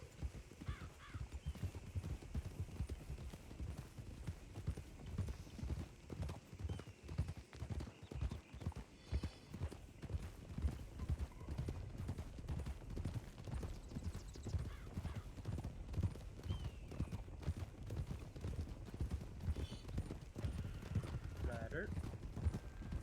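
A horse canters in the video game Red Dead Redemption with rhythmic hoofbeats drumming steadily throughout, moderately close, and an occasional whinny, while people talk over it.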